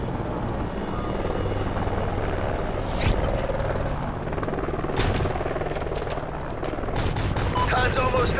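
An enemy helicopter in the shooter Call of Duty: Ghosts, a loud, steady rotor roar filling the scene throughout, with scattered gunfire cracks layered on top.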